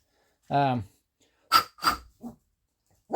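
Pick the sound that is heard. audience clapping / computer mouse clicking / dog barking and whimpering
dog barking and whimpering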